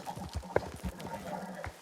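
Horse hooves clip-clop at a steady walking rhythm in Red Dead Redemption 2, out in the New Austin region, moderately close, with one sharper knock partway through and faint voice sounds underneath.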